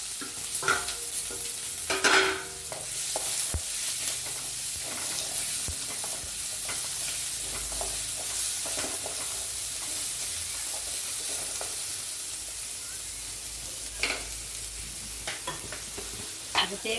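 Onions fry in a pan, a continuous bright sizzle broken by scraping, clattering stirs from a utensil, close and steady throughout.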